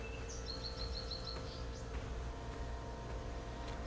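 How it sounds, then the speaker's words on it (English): Birds near a beach chirp in a quick series of high, thin notes early on, then fade, leaving a steady low ambient hum throughout. "God damn, those birds are loud"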